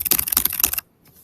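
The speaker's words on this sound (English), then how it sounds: "One of the key things that we might type in is using like a keyboard." Rapid keystrokes on a computer keyboard, a close, clattering run of clicks that stops abruptly, leaving near silence.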